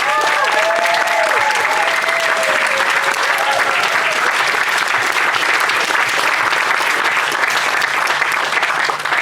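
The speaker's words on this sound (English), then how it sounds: "round of applause?" Loud, sustained applause from a large festival audience at a live recording fills the whole clip, with some whistles and cheers rising over the clapping early on.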